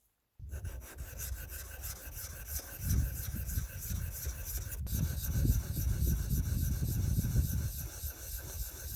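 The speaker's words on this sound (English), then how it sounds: "this is not the only way, nor necessarily the best way to sharpen a chisel." A woodworking chisel is honed on the fine side of a sharpening stone, making a close, steady rasping scrape with continuous back-and-forth strokes that grow slightly louder as it goes.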